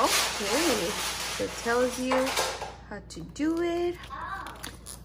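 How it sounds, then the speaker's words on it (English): Small plastic toy bricks clatter and rattle in a busy, clinking background while children play nearby, with someone talking over the noise and higher young voices coming through at times. "Girls are playing Legos, so excuse the noise."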